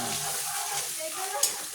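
Food frying in a pan with soy sauce added, a steady close sizzle with soft scraping of stirring and one brief sharp clink near the end.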